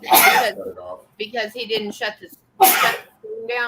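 A person sneezes loudly twice, once at the start and again midway, with people talking nearby in between.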